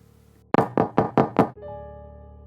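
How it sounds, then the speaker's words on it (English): Knuckles rap on a car window in five sharp, evenly spaced knocks, close and loud, followed by a faint lingering ring and quiet background. "Someone knocked on my car's window."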